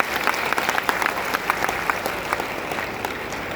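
An audience at an indoor meeting applauds steadily, a dense continuous clapping with sharper individual claps scattered throughout, fairly loud and close, with no speech over it.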